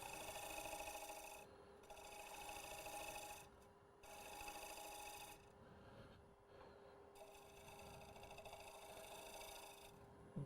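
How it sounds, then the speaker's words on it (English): A steel shear scraper rasps along the edge of a clay seed jar on a potter's wheel, giving faint, steady scraping in three long passes with brief pauses between, close and alone. "Do a little bit of that shear scrape"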